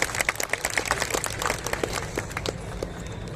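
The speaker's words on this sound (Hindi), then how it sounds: "तालियां तालियां।" Crowd applause at an appointment letter ceremony in a pandal in Munger for candidates who passed the BPSC exam, a few seconds of dense clapping that thins toward the end.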